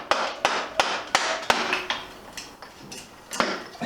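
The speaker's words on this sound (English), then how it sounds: "Keep it straight, hammer it through." A hammer driving a wheel axle through on a cafe scrambler motorcycle build: about a dozen sharp metallic blows in a fairly steady rhythm, close and loud, with no talking.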